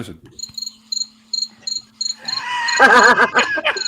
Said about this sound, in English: You downloaded an app just for the cricket sound.